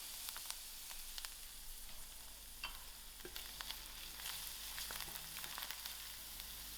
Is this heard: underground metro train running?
no